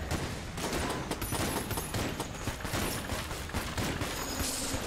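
Gunfire in the Enter the Gungeon video game: dense, rapid volleys of shots and mechanical clicks fill the whole stretch at steady loudness, with no talk over them.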